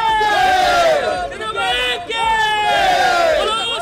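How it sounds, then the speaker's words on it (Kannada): A loud crowd cheers and chants slogans in celebration of a Karnataka by-election win, with sweets handed out and shouts of praise for the CM and DCM. Voices swell in two big rising waves of whooping and hailing, close and sustained. "ಧಾರವಾಡದಲ್ಲೂ ಸಿಹಿ ಹಂಚಿ ಸಿಎಂ ಹಾಗೂ ಡಿಸಿಎಂ ಪರ ಜೈಕಾರ ಹಾಕಿ"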